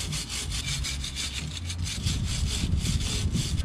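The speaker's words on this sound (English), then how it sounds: "Try to scrub this with a wire brush a little bit." A wire brush scrubs thick grease off a part from a Ford F100 with Holley Sniper EFI, making steady, rhythmic scratchy strokes close to the microphone with no talking.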